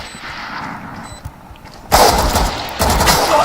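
Loud bursts of gunfire in a video game, a sustained rattle of shots starting abruptly, a brief gap, then another volley, heard up close over a softer background of game ambience.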